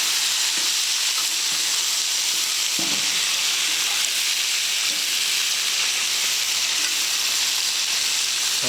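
Vegetables and potato fry in a pan with a loud, continuous close-up sizzle, and soft scrapes and taps from occasional stirring break through the hiss.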